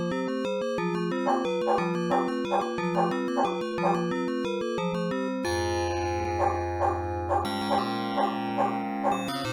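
A dog in the Shadow of the Comet video game barks and whimpers over synthesized game music, short yipping calls repeating in a steady pattern, loud and close.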